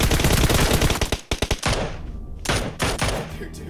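PUBG Mobile gunfire, loud bursts of rapid automatic shots with brief gaps between volleys, close and harsh, no talking.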